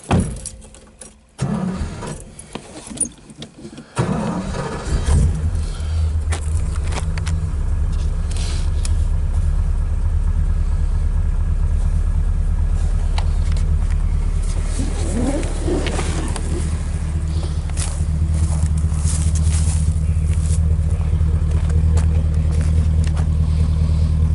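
A 1974 Dodge Charger LS engine cranks after a few clicks and handling noises, catches, and settles into a steady, loud, low rumbling idle close by.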